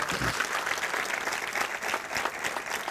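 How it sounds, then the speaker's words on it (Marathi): A church congregation claps in praise, the applause dense and steady throughout, fairly loud and filling the room with no speech over it. "टाळ्या वाजून देवाला धन्यवाद देऊया"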